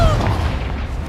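A Confringo spell explosion in the Hogwarts Legacy game, a loud, short, low boom that fills the moment and quickly fades.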